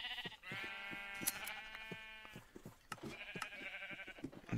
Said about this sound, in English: I am sorry, sheep. I did not mean to punch you.